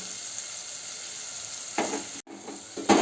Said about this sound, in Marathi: टोमॅटोला परत शिजून घेते मसाल्यामध्ये फ्राय करून